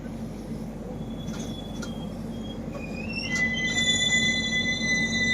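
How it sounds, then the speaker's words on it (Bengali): A passenger train pulls into Sainthia station with a low, steady rumble, while high metallic wheel squeals rise and hold as it slows. The sound grows slightly louder toward the end, with no talking. "এখন এই ট্রেনটি পৌঁছেছে সাঁইথিয়া।"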